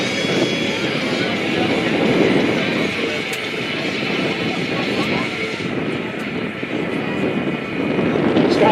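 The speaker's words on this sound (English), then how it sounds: "Unbelievable, the performance of this airplane." A single-seat aerobatic airplane performs at an airshow, its engine a loud, continuous roar that swells and fades slightly as it is thrown around the sky, with a voice faintly under the noise.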